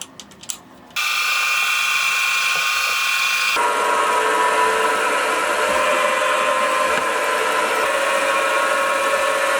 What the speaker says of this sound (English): drill and tap 2 M5 holes for some cap head screws to hold the lathe tool in place